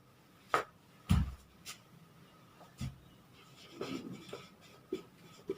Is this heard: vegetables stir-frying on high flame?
no